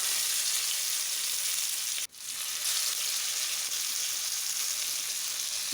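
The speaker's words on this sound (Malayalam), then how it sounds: "ഈ മത്തി എണ്ണയിലേക്ക് പെറുക്കിയിടുമ്പോഴത്തെ ഒരു സൗണ്ട് ഉണ്ടല്ലോ, ഭയങ്കര ഇഷ്ടമാട്ടോ അത് കേൾക്കാൻ" Sardines frying in hot oil, a continuous bright crackling sizzle at moderate level, briefly dipping once before resuming its steady hiss, with no voices.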